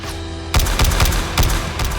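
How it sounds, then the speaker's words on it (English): A rapid burst of gunfire erupts after a brief low hum, with repeated loud shots in quick succession. "as Tigra does her best to protect the innocent lives from the hail of gunfire"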